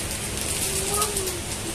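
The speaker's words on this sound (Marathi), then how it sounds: "आहा एकदम जोरात पावसाचं वातावरण आहे." Heavy rain falling, a dense continuous hiss of drops close by, with a faint tonal whine briefly rising over it.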